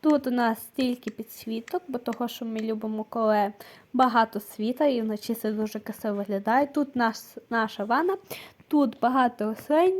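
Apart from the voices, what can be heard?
No everyday noises stand out.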